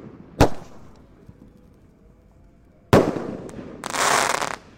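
A Hercules 1.8-inch Roman candle firework launches with one sharp, loud pop, then after a pause a second booming shot, followed by a bright crackling hiss as the star bursts and sparkles outdoors at night.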